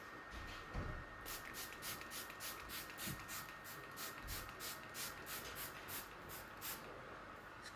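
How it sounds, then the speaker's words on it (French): Repeated quick spritzes of keratin spray misted onto hair, a steady run of short, evenly spaced bursts at moderate volume, with some faint handling noise underneath. "je vais commencer par mettre le spray à la kératine"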